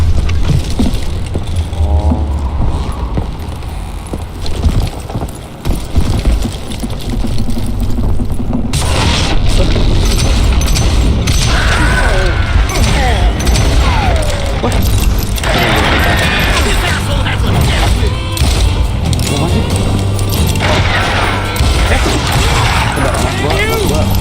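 Loud gunshots and booming game action from Call of Juarez Gunslinger fill the soundscape, dense and continuous with sharp bursts, while someone talks over it throughout.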